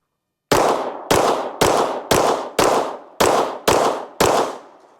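A Ruger RXM pistol fires 115-grain Blazer ammunition in paired shots, eight loud, sharp close reports in quick doubles with brief ringing decay between them.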